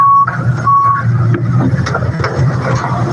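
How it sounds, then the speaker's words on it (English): Vehicles arriving at a roadside scene: steady engine rumble with intermittent beeping tones, loud and close, with no talk. "So we have a couple more vehicles coming up right now."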